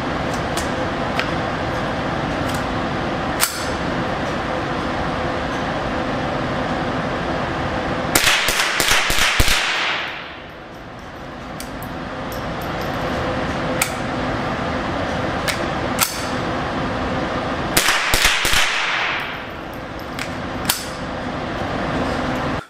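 Sharp cracks from a Winchester Model 77 rifle at a shooting range sound at scattered intervals over a steady whirring background, with two clusters of louder, echoing reports around the middle and near the end.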